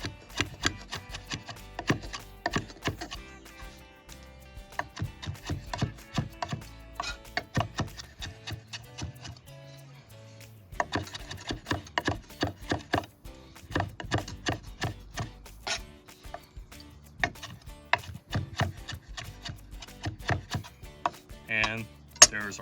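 A knife chops fresh cilantro on a board, sharp rapid taps coming in quick bursts with a short pause midway, a voice speaking at times between the cuts.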